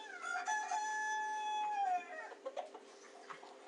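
A baby chicken in the Toca Life Farm video game gives a drawn-out, rising-then-falling crowing call followed by a few short clucks, clear and alone.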